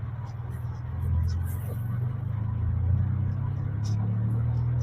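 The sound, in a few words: manual car pulling off in first gear, half clutch, accelerating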